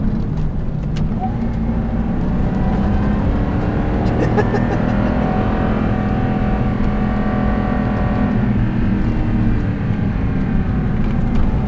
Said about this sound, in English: it makes me feel so good climbing these hills. And I'm at maybe a quarter throttle